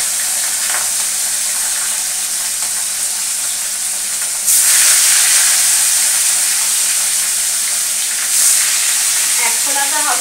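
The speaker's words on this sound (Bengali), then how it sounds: "মাছগুলো ভেজে নিচ্ছি।" Fish pieces frying in a pan for a fish curry, giving a loud, continuous close sizzle that swells into brighter bursts of spitting at intervals.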